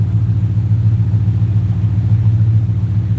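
A Ford 4.6 V8 idles steadily while its idle is being tuned, a loud, close, even low rumble with a slight pulsing throb and no voices.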